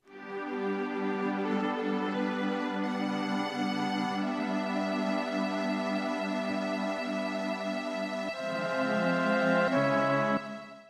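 Video game theme music, heard as a steady, sustained orchestral melody of layered tones at moderate volume, playing alone without voices.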